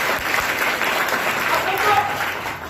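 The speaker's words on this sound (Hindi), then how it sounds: "हम चाहेंगे आप अपने लिए एक बार जोरदार ताली लगाएं" Hearty audience applause at a gathering, dense continuous clapping from a crowd that stays loud and steady for a few seconds, with a voice speaking over it.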